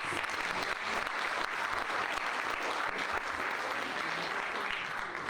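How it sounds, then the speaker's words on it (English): Sustained applause from a conference audience at a Methodist Conference session, dense and steady throughout without pause, a broad wash of many hands clapping at once. "Let us give them a round of applause."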